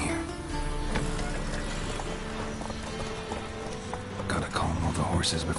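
Horses clip-clopping and whinnying in The Witcher 3, with hooves clattering steadily and close over an ambient game background, and a snort or neigh near the end.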